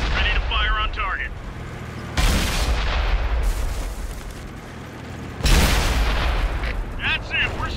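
Tank cannon fire in the World of Tanks video game: two loud, heavy booming blasts a few seconds apart, each ringing out into a long rumbling decay, amid game noise and a voice speaking.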